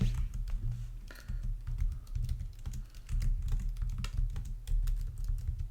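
Rapid typing on a computer keyboard, a dense run of close clicking keystrokes with brief pauses, steady and clear, with no voices.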